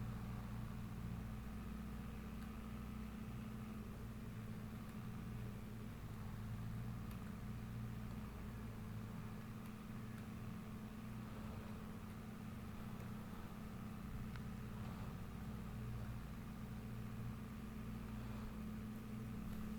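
A tractor engine in a farming simulator game runs with a steady low, droning hum and a slight uneven jerk, continuous and fairly close, with no voices over it.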